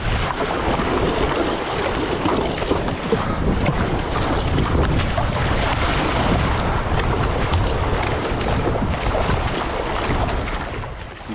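Surfski paddled on a downwind run through waves on the Columbia River between Skamania and Home Valley; constant loud wind buffeting with rushing, splashing water throughout, with no talking.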